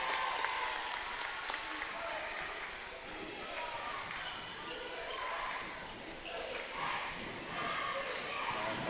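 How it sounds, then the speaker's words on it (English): A loud crowd at a boys' high school basketball game cheers and applauds continuously after made free throws, with a broad roar and claps throughout, mixed with bouncing and distant voices. "this is a loud crowd here tonight"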